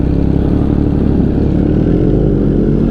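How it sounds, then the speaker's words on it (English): Motorcycles, including an MV Agusta, idle together while warming up on cold engines before a group ride, a loud, close, continuous low rumble with steady throbbing and mechanical clatter. "Kind of waiting on the bikes to warm up."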